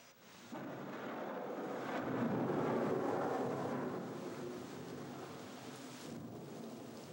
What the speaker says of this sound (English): It comes down in buckets at this Malayan pond every 12 minutes, complete with lightning and thunder.